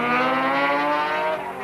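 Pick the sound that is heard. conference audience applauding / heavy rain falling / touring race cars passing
touring race cars passing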